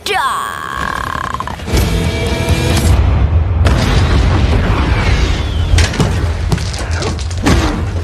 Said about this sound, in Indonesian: Setelah mendekat, bom pun meledak.